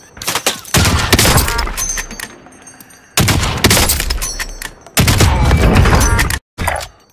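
Gunfire in Call of Duty Warzone, loud sustained bursts of automatic fire in three long volleys separated by brief pauses, close and harsh, with a final short burst after a gap.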